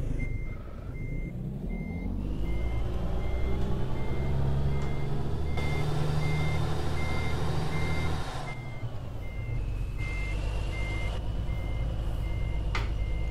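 Reversing beeps from a Kenworth W900 truck backing a Great Dane reefer trailer in American Truck Simulator, a steady evenly spaced beep repeating throughout over a loud low engine rumble.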